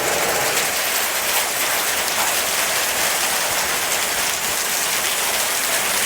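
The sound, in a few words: marble-size hail falling during storm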